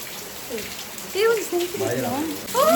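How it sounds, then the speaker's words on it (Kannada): A continuous rush of heavy rain fills the background while a person talks over it. "ಜೋರು ಮಳೆ ಬರ್ತದೆ."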